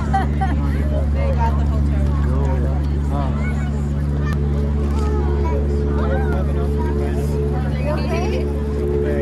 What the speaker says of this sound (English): I see a lot of ducks.